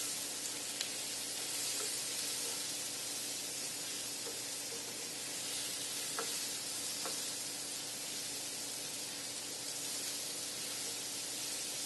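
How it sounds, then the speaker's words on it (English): Onions frying in a skillet before chicken is added, a steady soft sizzle and hiss with occasional light scraping ticks, fairly quiet and heard without talk. "Just getting a little color on the onions."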